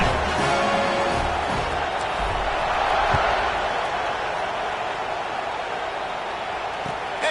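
College football stadium crowd at a kickoff, a steady, distant, wide roar of cheering that holds throughout, with a commentator talking over it.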